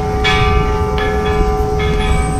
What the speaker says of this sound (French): c'est une petite cloche.